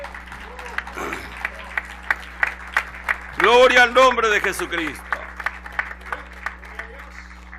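A church congregation applauds during a Spanish-language worship service, steady clapping running throughout beneath a voice speaking and briefly singing out over it.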